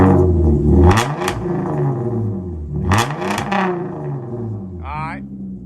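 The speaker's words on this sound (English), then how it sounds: "here's the Genesis running. It has straight pipe exhaust on it" A Hyundai Genesis engine with straight pipe exhaust and gutted catalytic converters idles with a deep, loud rumble, swelling in a few short revs, while someone talks over it close by.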